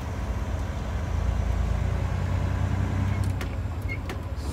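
A car engine hums steadily while driving on the road, a low constant drone close inside the cabin, with a couple of faint clicks near the end and no talking.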